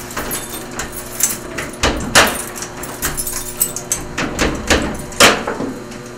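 A door aboard the USS Hornet museum ship is worked shut, giving a series of sharp metallic knocks, clunks and jangles, with one louder thud near the end.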